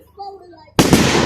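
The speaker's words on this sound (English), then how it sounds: "it's a fireworks train, that's what it is" A fireworks train goes off at a bonfire night display at Lea Park. A short stretch of quieter tonal sound is suddenly cut by a loud, sustained crackling burst of explosions that carries on to the end.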